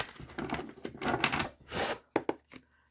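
Playing cards being shuffled by hand, a run of soft papery riffles and flutters up close, followed by a few sharp taps as the deck is squared, then quiet.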